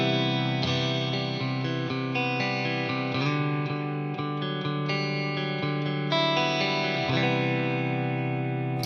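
Electric guitar played with both pickups selected through effects such as distortion and chorus, ringing sustained chords and notes that change every second or two, full and close, with no talking.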